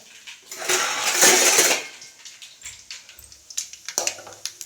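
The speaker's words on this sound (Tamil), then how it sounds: "கடுகு வந்து நல்லா பொரியட்டுங்க" Mustard seeds crackle and pop in hot oil, starting with a loud frying burst that fades into a string of sharp, uneven pops close by.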